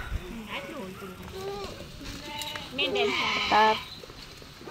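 Sheep bleat in short harmonic calls near a Dhangar shepherds' flock in hilly country, several overlapping cries with people talking nearby.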